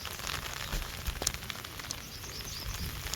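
Steady rain patters on a surface, with scattered drips and light crackling taps over a constant wash of noise.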